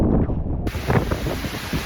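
Constant heavy roar of Sweden's highest waterfall, loud and close with wind buffeting the microphone and no talk.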